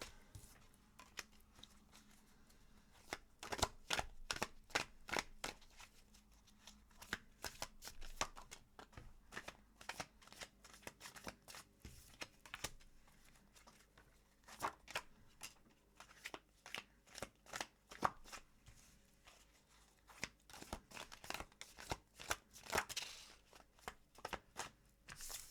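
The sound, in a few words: shuffling tarot cards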